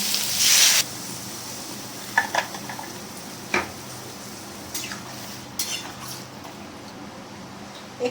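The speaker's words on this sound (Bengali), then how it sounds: "একটুখানি তেল দিয়ে এগুলোকে একটু মেরে নিলাম" Vegetables sautéing in a little oil for a thin jhol, with a short burst of sizzle at the start followed by sparse scraping and stirring clicks against the pan.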